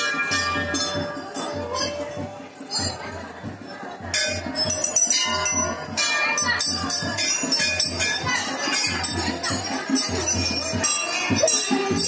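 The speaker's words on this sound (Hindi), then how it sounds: "कुछ घंटा उंटा हम भी लगा देते हैं" Many brass temple bells at a Hanuman temple ring in rapid, overlapping clangs with shimmering metallic overtones, loud and continuous, with a crowd murmuring faintly behind.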